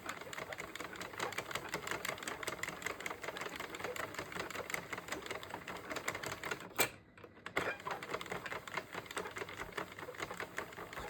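A Sentro 48-needle knitting machine knits rows of yarn with rapid, even clattering clicks, close and steady, with one brief pause before the rhythm resumes.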